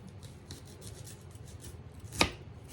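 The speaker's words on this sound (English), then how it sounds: "Let me get one more little chop here, and that ought to do it." A knife chops onions into ring-size pieces on a board with a few soft taps, then one sharp, louder chop near the end, close up and without speech.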